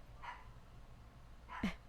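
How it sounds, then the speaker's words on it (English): Two short dog barks from a female dog, a faint one early and a sharper, closer one near the end, over a low background hum. "I kind of heard her barking."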